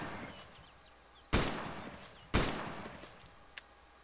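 Gunfire in Arma 2 Epoch on Chernarus, two sharp loud shots about a second apart, each ringing out with a long echoing tail, followed by a fainter, smaller pop.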